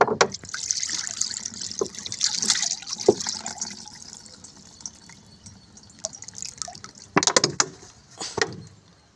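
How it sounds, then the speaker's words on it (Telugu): Banana peel liquid fertilizer is strained into a container, giving intermittent trickles, drips and splashy pours, fairly close and moderately quiet, with no talk. "సో ఇప్పుడు ఇవైతే వడకట్టుకుంటాను నేను ఎందుకంటే బనానా పీల్స్ అవన్నీ ఉన్నాయి కదా"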